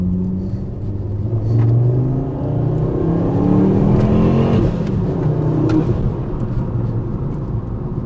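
A 5-cylinder turbocharged VW Rabbit drops a gear and pulls hard, its engine note rising in steady sweeps through the gear, loud and close with cabin rumble throughout.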